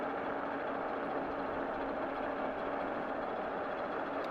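An Evercross EK6 e-bike motor runs on throttle alone, pulling steadily up a hill with no pedaling: a constant, even whir blended with rushing wind noise that stays close and unbroken throughout.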